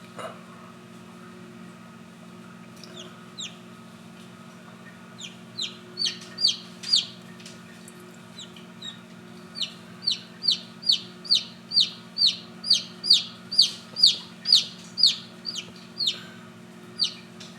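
A hen in a farm garden clucking, at first in sparse calls and then in a steady, rising run of sharp, regular clucks close to the microphone, over a constant low electrical hum with no talking.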